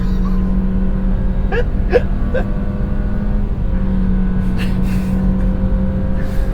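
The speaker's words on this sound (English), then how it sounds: "This poor little car is trying so hard." A 2023 Nissan Versa accelerating hard from a stop, its small engine droning steadily loud and close from inside the cabin, with a brief squeaky gasp-like sound early on.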